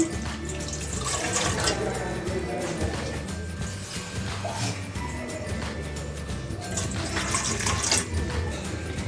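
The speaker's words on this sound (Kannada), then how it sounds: "ನೀರು ಹಾಕ್ತೀನಿ." Water runs steadily into an idli steamer pot set on a stove, a continuous splashing, gurgling stream heard close up for several seconds with no talking.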